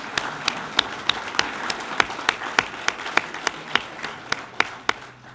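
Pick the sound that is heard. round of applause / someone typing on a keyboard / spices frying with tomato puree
round of applause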